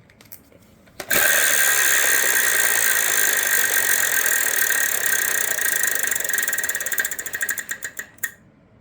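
A large game-show prize wheel on Wheel of Fortune spins with a steady rapid clatter of pegs against the flapper for several seconds, then slows into spaced individual clicks before stopping.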